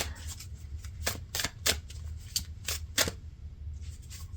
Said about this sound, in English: As I'm shuffling out your cards